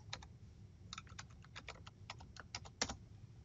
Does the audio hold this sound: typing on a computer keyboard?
yes